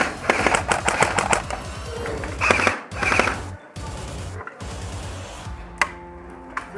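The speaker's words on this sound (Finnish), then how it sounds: "Ampuu tähän ikkunaan." Gunfire aimed at a window, loud rapid bursts of shots in quick strings with short gaps, close by and sharp.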